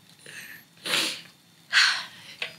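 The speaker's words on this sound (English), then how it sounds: "I'm gonna sneeze again." A person sneezes twice in quick succession at close range, each burst sharp and loud, with a soft intake of breath before and a faint trailing sniff at the end, in an indoor room.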